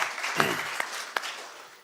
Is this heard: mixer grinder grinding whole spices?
no